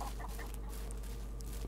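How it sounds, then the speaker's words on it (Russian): Chickens cluck softly in the game Will To Live Online, a few short faint clucks over a steady low hum of ambient background noise. "О, курицы."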